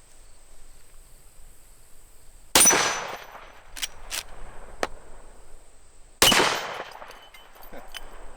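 Two loud, sharp gunshots a few seconds apart from a handgun firing .44 Magnum XTP hollow point rounds at targets on a stand, each with a short echoing tail, plus faint clicks and an insect drone outdoors.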